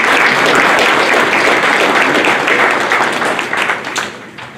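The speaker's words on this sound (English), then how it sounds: "Let's give them a round of applause." A large audience gives a sustained round of applause at a high school athletics hall of fame induction ceremony, loud dense clapping filling the room before tapering off at the end.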